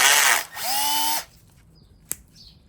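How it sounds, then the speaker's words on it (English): A power drill spinning a Scotch-Brite abrasive pad to clean a Suzuki V-Strom 650 brake part whirs at high speed, briefly stops, then spins up again with a steady whine before cutting off, followed by a sharp click. "I put it in the chuck of a drill bit, in a drill rather, get some Scotch-Brite"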